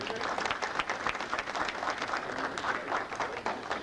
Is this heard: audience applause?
yes